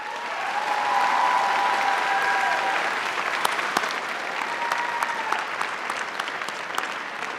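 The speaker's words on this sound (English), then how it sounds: "join me again in one more round of applause for our incredible faculty" A commencement crowd gives a round of applause for the faculty, steady dense clapping filling the hall for several seconds, with a few louder individual claps standing out.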